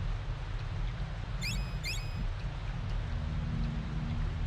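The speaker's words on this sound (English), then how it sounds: "Acid rain." Acid rain spell from the Secret of Evermore video game, a steady wash of rain-like static with a low rumble, over which a few bright chirping tones flicker in two quick bursts midway.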